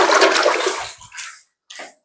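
Water pours and splashes loudly from a container at home, a strong rushing stream that tapers off, then a short final splash after a brief pause.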